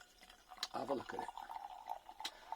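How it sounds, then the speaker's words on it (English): Butford Organics Aurora Perry, a delicately carbonated 2020 perry, poured briefly into a glass, a faint close trickle and splash lasting about a second amid quiet surroundings. "Just pour a bit out and have a look at it."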